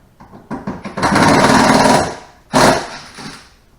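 Loud, harsh cracking and grinding as a car's rear plastic trim clips are pried apart, one long stressed stretch followed by a second sharp pop-like burst.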